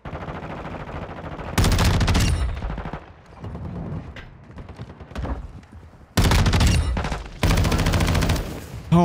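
A Tempus Razorback rifle fires in Warzone 2 in loud, rapid automatic bursts, with two long close volleys and shorter strings between them, over game battle ambience.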